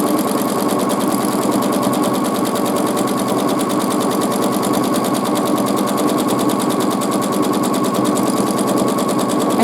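A sewing machine running continuously during free motion quilting, a loud, close, rapid mechanical needle chatter with a steady buzzing rhythm and no pauses or voices.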